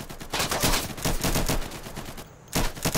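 Sustained bursts of automatic gunfire in the Insurgency shooter game, loud, dense and close, with rapid repeated shots and a short lull before another burst.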